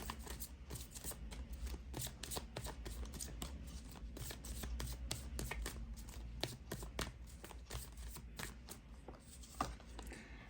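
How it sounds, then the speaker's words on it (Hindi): Tarot cards being shuffled by hand for a candle wax reading, a steady run of soft riffling flicks and slaps repeating through the whole stretch, close and moderately quiet with no talking. "मुझे यूनिवर्स की तरफ से भी कुछ कार्ड्स लेने हैं"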